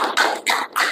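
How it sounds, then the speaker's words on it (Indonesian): A classroom of students claps together in three short, loud bursts of unison clapping, each separated by a brief pause. "Oke, tepuk tangan buat semuanya."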